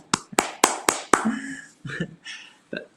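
A single person claps several times in a quick, uneven burst, sharp close slaps that thin out into scattered later claps with a brief voice between them.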